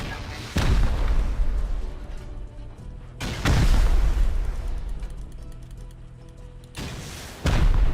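Explosions during a base raid in the video game Rust: three heavy booms land several seconds apart, each a sharp blast followed by a long rumbling decay.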